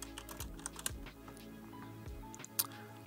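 Rapid clicking of fingers typing on a computer keyboard while writing code, an uneven run of close, crisp keystrokes with short pauses and no talking.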